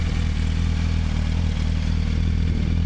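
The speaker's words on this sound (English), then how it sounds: "Bike sounds great and it runs just as good as it looks and sounds" A 2005 Yamaha YZF R1 motorcycle idles close by, a loud, steady mechanical drone with fine rapid ticking and no revving, running alone without talk.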